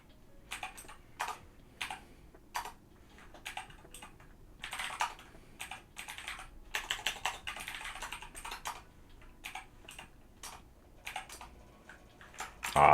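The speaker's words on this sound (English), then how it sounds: "I keep hitting the wrong keys then." Typing on a computer keyboard: irregular bursts of close, crisp key clicks, sometimes single taps and sometimes quick clustered runs, with pauses between, ending in a louder clack.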